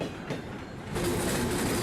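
A train rolls from the former Erie Railroad tracks onto the former New York Central main line near Galion, Ohio, its steady rumble and wheel clatter growing louder partway through.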